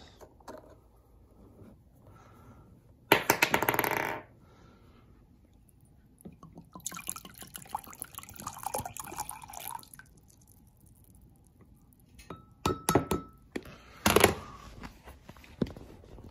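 Liquid from a hair brush flask is poured into an empty measuring cup. A short splashing pour and a longer trickling stretch are followed by a few later drips and splashes, close and fairly quiet, with no voices.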